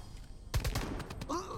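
Short burst of gunfire in Jagged Alliance: Rage!, several quick cracks close together lasting under a second, loud against quiet game ambience, with a voice faintly present.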